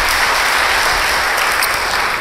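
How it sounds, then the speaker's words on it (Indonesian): A church congregation at a worship service claps loudly together, a short, dense burst of applause at close range with no pause. "Beri tepuk tangan bagi dia."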